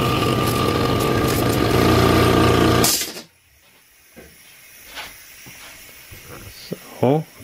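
Air hisses from a leaking fitting where a tube joins the pressure switch on an Eagle air compressor, a steady loud broadband hiss for about three seconds that then stops, followed by quiet with a few faint clicks and handling noises.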